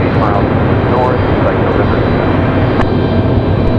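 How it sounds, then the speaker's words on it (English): An Air France jet airliner on the move at Raleigh-Durham airport gives off a steady, loud broadband engine roar that holds for the whole stretch, with faint voices mixed in. "There they go, Air France on the move now"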